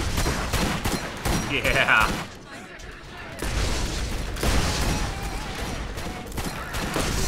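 Anti-iridium revolver in the game Borderlands firing amid continuous battle noise, booming shots and explosions dense and loud, with someone talking briefly over it.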